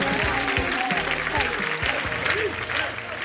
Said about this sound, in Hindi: चलिए आइए, जोरदार तालियां इनके लिए।